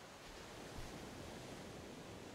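Ocean waves wash onto a beach in a soft, continuous hiss of surf with no distinct breaks, quiet and even throughout, with no voices.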